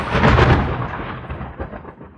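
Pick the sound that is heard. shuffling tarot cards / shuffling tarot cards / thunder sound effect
thunder sound effect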